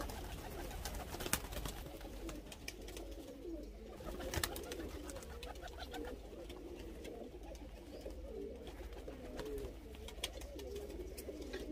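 Soft, repeated cooing of pigeons being hand-fed chickpeas, layered and continuous, with occasional wing flutters and light thumps nearby.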